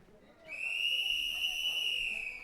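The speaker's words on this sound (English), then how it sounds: "There's the whistle." A referee's whistle starts a timber sports heat at a Nordic professional lumberjack championship, one long, steady, shrill blast ringing clearly for about two seconds against a quiet background.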